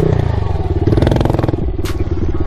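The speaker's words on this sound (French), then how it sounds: "Donc moteur Honda, refroidissement à air, mais par contre injection" An air-cooled, fuel-injected Honda motorcycle engine runs close by, a loud rapid pulsing idle with mechanical clatter and a brief sharp hiss partway through.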